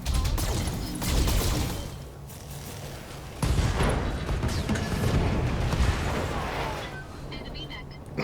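Precision strike artillery in BattleTech lands on an enemy mech during a base defence, heavy booming impacts with a long rumbling roll. A second loud barrage hits midway, and a voice talks over it.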